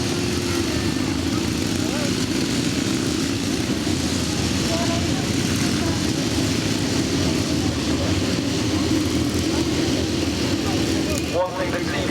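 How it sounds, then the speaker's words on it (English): Royal Signals White Helmets display team motorcycles ride at an outdoor show, a continuous massed engine drone from several bikes running together, steady and fairly loud, with a commentator talking over it. "What a wonderful sound those bikes make when they're all out."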